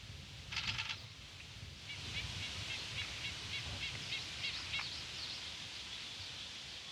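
Birds chirp outdoors in short, bright bursts, one clear call near the start and scattered trills after, faint and distant over a soft wash of wind and rustling leaves.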